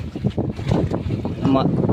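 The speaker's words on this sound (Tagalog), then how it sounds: "Lakas kasi ng hangin." Strong outdoor wind buffeting the microphone as a meal is eaten outside, a gusty rumble that swells and fades under a person talking close by.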